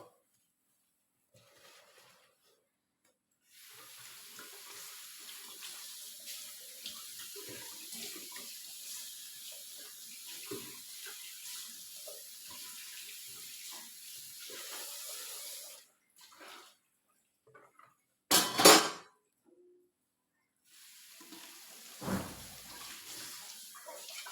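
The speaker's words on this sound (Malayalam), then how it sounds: "ഞാൻ എടുത്ത പാത്രം രണ്ടും ഒന്ന് കഴുകി വെക്കുക" Tap water runs steadily for a long stretch as dishes are rinsed, with quieter pauses, a brief loud splash burst, and no voices.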